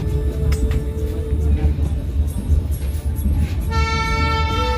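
A meter gauge train runs on the 138-year-old Bahraich–Nepalganj Road line, rumbling and clattering close by, with a sustained horn blast sounding near the end.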